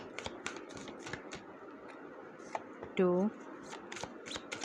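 Tarot cards shuffled and drawn in a steady run of crisp flicks and riffles, with someone talking over them and a brief tonal sound partway through.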